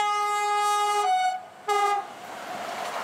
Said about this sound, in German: Hier fährt so mancher Zug ohne anzuhalten vorbei. Aber nie ohne ein Hubsignal.